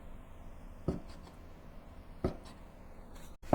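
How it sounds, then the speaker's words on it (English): Firm tofu cut into small pieces with a knife, giving two separate sharp taps on a cutting board a little over a second apart against quiet room tone. "I use firm tofu in place of the minced pork, and I'm going to cut it into small pieces too."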